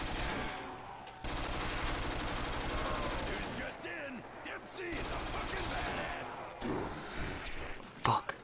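Rapid gunfire from a video game's gun game mode rattles almost without pause, dense bursts filling the clip, dropping out briefly and returning, with a few sharper loud shots near the end.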